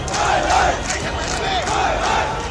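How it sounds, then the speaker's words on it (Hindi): Hundreds of people massed outside a police station in Surat at night chant slogans together, a loud, continuous roar of voices rising and falling in rhythmic waves. "थाने का घेराव कर दिया गया, जमकर नारेबाजी होने लगी।"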